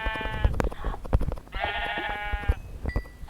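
Sheep in Minecraft bleat twice in clear, loud bursts with a harmonic, nasal tone, alongside clicks and game noises; no voices speak.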